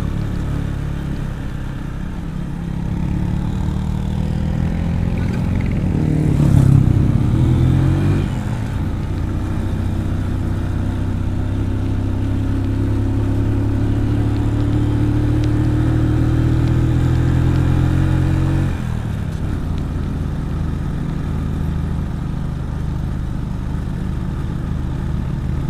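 A motorcycle engine labours steadily uphill in low gear on a tourist route near Watu Lawang, Sawahan, Nganjuk, giving a loud, continuous drone that rises in pitch, swells near the middle and shifts with gear changes, with wind rushing throughout.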